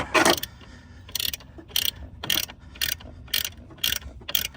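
A ratcheting wrench works on a Pontiac Fiero GT brake master cylinder, making five or six short, loud ratchet clicking bursts in a steady rhythm, each followed by a brief pause, all close up with no talking.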